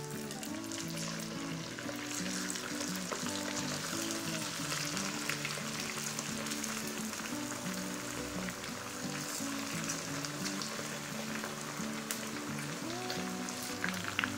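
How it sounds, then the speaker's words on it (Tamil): Pieces of chicken 65 deep-fry in hot oil, giving a continuous dense bubbling sizzle like heavy rain. A faint tonal background sits underneath, and the sizzle swells slightly at the very end. "இப்போ எண்ணெய் காய வச்சு இதை பொறிச்சு எடுத்துக்கலாம்"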